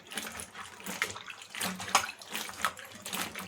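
Running water splashes as okra is washed by hand in a kitchen, a steady close wash with irregular surges and small knocks from the vegetables, no talk.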